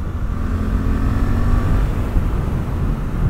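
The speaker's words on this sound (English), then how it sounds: "I'm not even getting on the throttle here because I've got to be careful with this bike." A Suzuki GSX-8S motorcycle engine drones steadily while being ridden gently off the throttle, a low, continuous rumble with a faint hum, close and fairly loud, with no talking.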